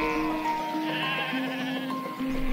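A sheep bleats in long, steady, wavering calls, several in a row, close and clear over a faint background, with no talk.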